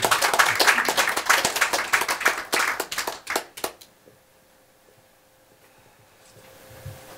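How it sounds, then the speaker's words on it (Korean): An audience at a Korean book launch event claps warmly for several seconds. The dense applause tapers into scattered claps and then stops, leaving a quiet room. "여러분 뜨거운 박수로 부탁합니다."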